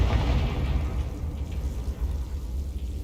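A Confringo fire spell blasts in the video game Hogwarts Legacy, a dense, rumbling explosion with a heavy low-end roar that stays loud and sustained throughout, slowly crackling and fading without any pause.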